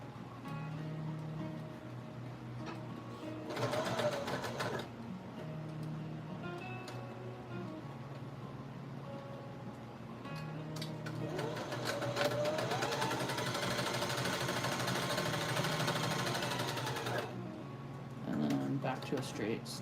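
Sewing machine stitching a zigzag seam across the bottom of a handmade doll, running in several bursts of rapid mechanical whirring with pauses between, close by, with a person talking at times during the quieter stretches.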